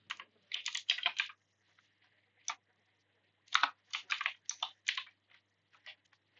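Typing on a computer keyboard during an operating-system file and directory lesson, heard as bursts of quick, close, crisp key clicks with short pauses between them and no talking.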